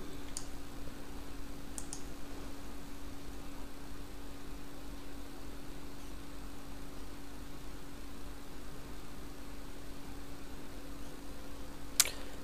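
A few sharp mouse clicks on a software confirm button, spaced apart and faint, over a steady background hiss and hum.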